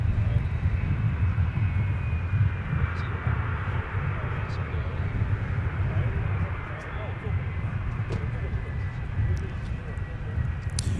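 Airliner taking off at Minneapolis–St. Paul airport, a steady broadband roar of jet engines that holds throughout with slight swells, heard from a distance, with faint ticking sounds and no talk.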